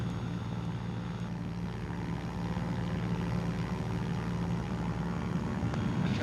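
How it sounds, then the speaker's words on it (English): A Cessna 210 light aircraft in flight over hills in Malawi, its engine and propeller making a steady, continuous drone that fills the cabin with no talk over it. "I better put this map away so I can fly the plane."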